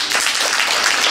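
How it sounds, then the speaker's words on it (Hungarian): Audience applause fills a cabaret talk show studio, a dense, steady wash of clapping that holds at an even level throughout with no voices over it. "Nem volt egyhangú a taps."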